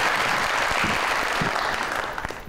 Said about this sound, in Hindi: आइए जी, बहुत सारी तालियों में तशरीफ रखेंगे।